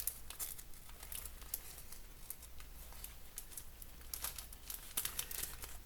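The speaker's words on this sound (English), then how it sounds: "And now I'm going to get the flower stickers out." A sheet of flower stickers for a scrapbook layout is pulled out and handled, giving soft, close crinkling and rustling with scattered sharper crackles throughout, quiet and without talk.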